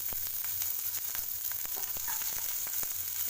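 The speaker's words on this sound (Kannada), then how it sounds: "ಸಾಸಿವೆ ಜೀರಿಗೆ ಬಿಸಿ ಆಗೋವರೆಗೂ ಓಕೆ ನೆಕ್ಸ್ಟ್ ಈರುಳ್ಳಿ ಈರುಳ್ಳಿ ಹಾಕೋಬೇಕು" Onions frying in hot oil with mustard seeds and cumin, a steady sizzle with scattered sharp pops and crackles, close and fairly quiet, with no talking.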